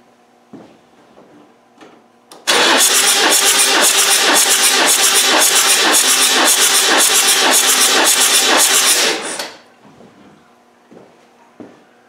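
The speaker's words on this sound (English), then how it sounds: "I'm going to crank this engine over." A Malawi 110 engine cranking over on the starter during a compression test, a loud rapid rhythmic chugging that starts abruptly and runs about seven seconds before stopping, with faint clicks before and after.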